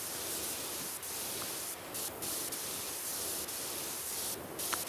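Pressure washer spraying in the video game PowerWash Simulator 2: a steady, broad hiss of water jet running continuously, with brief gaps where the spray cuts off.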